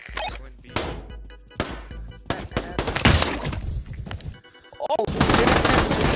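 Rapid bursts of gunfire from the VR shooter Pavlov, with sharp close shots and automatic fire coming in uneven clusters, loud and busy, with no speech over it.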